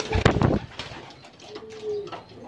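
A single unpaired pigeon coos close by, a soft throaty coo after a brief burst of rustling and wing flutter, heard alone without talk.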